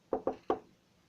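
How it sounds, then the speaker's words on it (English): Three sharp knocks on the back of a house at night, two quick raps then a third after a short pause, moderately near and alone in a quiet background. "I heard someone knocking like this."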